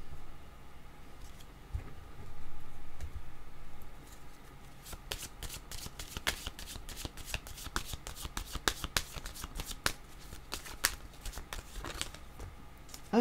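A deck of tarot cards is shuffled by hand during a card reading, giving a steady run of quick, crisp riffling snaps close to the microphone, quiet and without talk.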